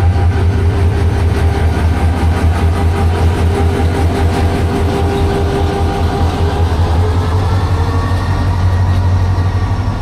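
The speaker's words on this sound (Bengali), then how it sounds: "লোকোমাস্টার সাহেব লিভার টান দিলেন এবং দিনাজপুর কমিউটার বিরলের উদ্দেশ্যে ছেড়ে গেল শ্যামপুর থেকে।" Dinajpur Commuter train with a Hyundai Rotem 2900-series diesel locomotive pulling out of Shyampur station toward Biral, a loud, close, steady low engine rumble with rhythmic clatter from the carriages.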